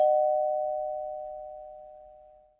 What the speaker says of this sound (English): we also have, of course, the doorbell.